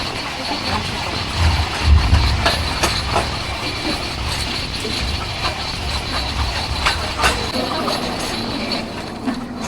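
A train from Cape Town to Elgin rumbles steadily along with continuous broadband rolling noise, occasional rattles and brief louder bumps throughout, no voices.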